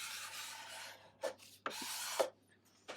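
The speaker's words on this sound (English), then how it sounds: "2 strokes of the scraper just to take off the fuzziness from the sandpaper" A steel cabinet scraper draws across a sanded wooden guitar fingerboard, giving a long soft rasping rub followed by a few short, close scraping strokes with quiet pauses between them.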